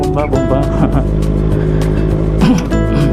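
A Kawasaki ZX6R motorcycle engine revs loudly and close by, its high-pitched whine rising and falling in repeated throttle blips on a road.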